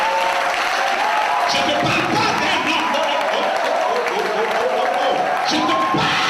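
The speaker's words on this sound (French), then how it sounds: "Donne une offrande d'acclamation à Jésus." A church congregation applauds and cheers in a broad, continuous wash of clapping and crowd noise, while a preacher speaks in French over it.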